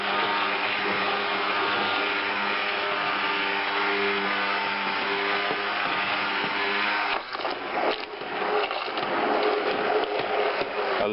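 A stick blender whirs continuously through soaked rice for rice milk, a loud steady motor whine that turns rougher and choppier partway through as the blade churns the mixture.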